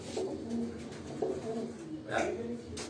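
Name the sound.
pigeons cooing at rooftop loft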